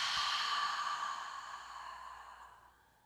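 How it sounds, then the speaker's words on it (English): One long, breathy exhale through an open mouth during a yoga breathing exercise, close and steady at first, then tapering off to quiet. "Open the mouth, exhale."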